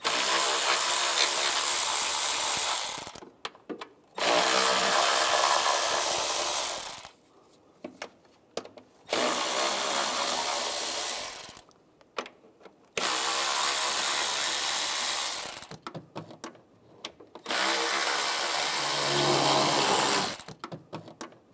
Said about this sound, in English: Now I'll take these bolts out on the top and on the bottom of the intake, use an 8 millimeter socket